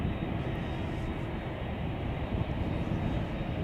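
Boeing 767-300ER airliner arriving at Chicago O'Hare from New York, a steady loud low engine roar and rumble that holds level throughout, with no talk.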